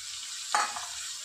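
Flat beans tipped into a pan of frying spices set off a short burst of sizzling, followed by stirring, all at close range, with no talking.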